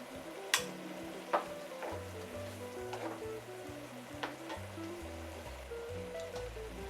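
A white wine sauce simmering in a pan while cod poaches, giving a quiet steady bubbling sizzle, with a few sharp clinks of utensils and music playing softly underneath.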